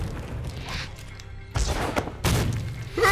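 Illusion rockets exploding in a Spider-Man game: a couple of loud, heavy booming blasts punctuate a busy battle soundscape, each followed by crashing debris.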